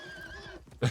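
A horse in the video game Far Cry 6 gives a short, sharp whinny at the end, preceded by a faint tonal in-game backdrop.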